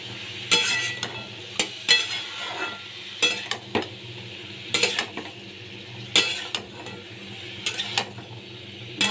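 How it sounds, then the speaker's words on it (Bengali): Snake gourd pieces are stir-fried in hot oil for a Bengali shrimp and potato recipe, a soft sizzle broken by regular scraping and clanking spatula strokes against the pan, close up with no voices. "এবার চিচিঙ্গেগুলোকে ভালো করে আমি ভাজা ভাজা করে নেব।"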